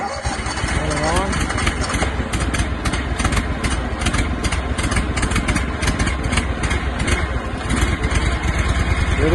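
The small engine on a portable concrete mixing trailer runs loud and close with a rough, steady chugging idle and some revving throughout.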